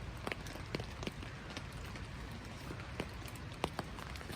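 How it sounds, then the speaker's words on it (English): Quiet, steady rainfall at a hammock camp, scattered drops pattering on a surface, a soft continuous hiss underneath. "It's still raining."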